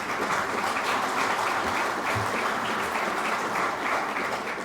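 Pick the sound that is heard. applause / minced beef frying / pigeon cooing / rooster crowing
applause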